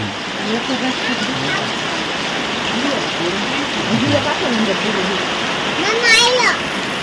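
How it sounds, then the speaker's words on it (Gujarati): Steady rain falls in a continuous broad hiss, while voices murmur faintly beneath it and a brief high chirp rises near the end. "કેવો મસ્ત મજાનો વરસાદ ચાલુ થઈ ગયો લાંબા વિરામ બાદ"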